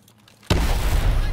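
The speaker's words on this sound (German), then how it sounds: "Blendgranate!" A flashbang grenade detonates in Call of Duty: Advanced Warfare, a sudden loud blast that cuts in abruptly after a quiet moment and holds as a dense, sustained roar of noise.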